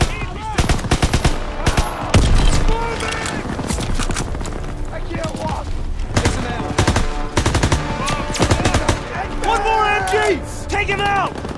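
Heavy machine gun bursts and rapid gunfire in the Call of Duty WWII video game on PS5, loud and sustained with repeated volleys, while voices shout over the battle.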